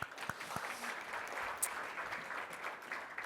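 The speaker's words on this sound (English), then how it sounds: "Round of applause." Scattered applause from a conference audience for a competition winner, fairly faint and uneven, with a few distinct sharp claps over a light patter.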